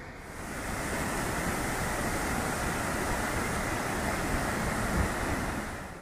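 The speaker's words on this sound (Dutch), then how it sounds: "Onderweg passeer ik een indrukwekkende waterval. Wat een gebulder, wat een geraas, wat een kracht" A powerful roaring waterfall in Norway, its steady broadband rush loud and close, holding constant for the whole stretch without a break.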